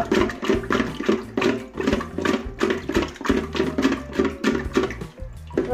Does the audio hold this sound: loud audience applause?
no